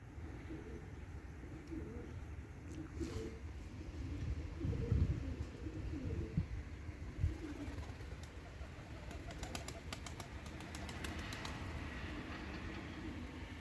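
White crested pigeons flutter and coo faintly over a steady low outdoor rumble in a light wind, with a few soft wing flaps and thin chirps scattered throughout.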